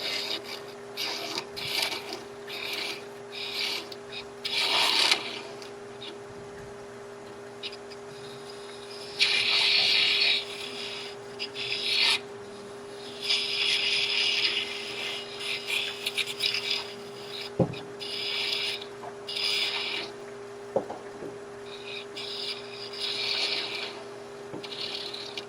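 A 1/4-inch bowl gouge cuts a small wooden Christmas ornament knob, giving bursts of rough scraping and rasping that come and go over a steady mechanical hum, close and fairly clear with no talking.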